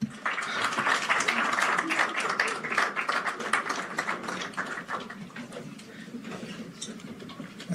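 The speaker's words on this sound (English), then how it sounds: "One more round of applause." An audience at a global health governance gathering claps after a closing speech, a steady patter of hands that thins toward the end, with some voices mixed in.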